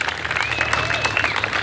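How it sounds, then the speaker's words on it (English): Audience applause at a 58th District Republican debate, a short steady burst of clapping from a crowd filling the room, with a faint tone running through it. "Round of applause for Daren"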